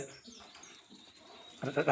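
A Blue Satin pigeon coos low and close near the end, after a quiet stretch with faint rustling and distant bird sounds.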